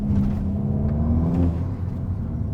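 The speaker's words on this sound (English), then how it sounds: "Sounds lovely with valves closed" A Mk8 VW Golf GTI with its OPF/GPF particulate filter deleted and exhaust valves closed, heard from inside the car as a steady, close engine rumble with a brief rising rev and whir.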